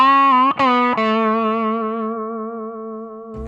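Inexpensive electric guitar through an amp set to the edge of breakup, one sustained, slightly gritty chord ringing out alone after a quick restrike and slowly decaying.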